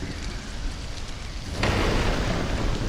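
Steady rain pours in the survival video game Stranded: Alien Dawn, and partway through it swells into a louder rushing downpour with a thunder rumble, with no talk over it.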